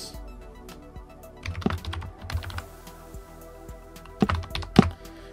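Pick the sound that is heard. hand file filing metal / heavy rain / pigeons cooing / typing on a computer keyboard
typing on a computer keyboard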